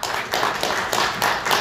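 An audience at a forum on election fairness applauds, a short burst of scattered hand claps in uneven pulses.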